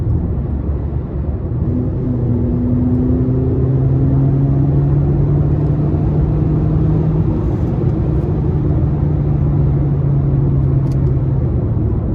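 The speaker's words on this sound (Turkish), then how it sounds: "ara gazı verecek." Citroen C3 1.4 VTi petrol engine with a BMP5 semi-automatic gearbox, heard from inside on the road: a steady loud drone with rising and falling engine tones as the throttle is blipped between gears.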